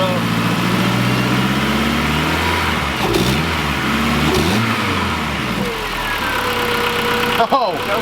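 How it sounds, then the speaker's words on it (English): A car engine idles and revs up close by, the pitch rising and falling in a couple of throttle blips with a rough, knocking edge, then settling back toward idle. "when you rev it up."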